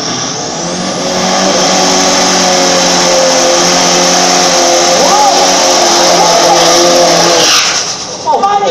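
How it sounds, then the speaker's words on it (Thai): A drag racing car does a burnout in the burn box at the Khlong Ha strip, its engine roaring loud and sustained with screeching tyres for most of the run, while an announcer talks over it. "ล้อหลังจุ่มเบิร์นบล็อกเรียบร้อยแล้ว เมื่อพร้อมแล้วเบิร์นครับ"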